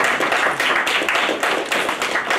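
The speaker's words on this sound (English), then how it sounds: "You can clap, go and clap." An audience at a tech talk on building custom Grunt tasks breaks into dense, steady clapping, close and fairly loud, sustained for a couple of seconds with no talk over it.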